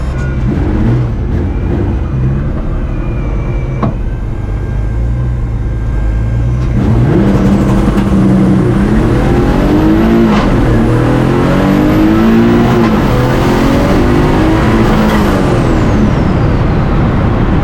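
A tuned turbocharged car launching hard from a standstill in a 0-60 mph run: the engine idles and builds, then roars loudly into acceleration with rising revs through the gears, close and dominant throughout.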